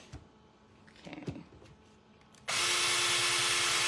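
A power drill bores into a wooden sugar glider toy, with soft handling noises at first and then a sudden loud, steady whir of the drill running close up.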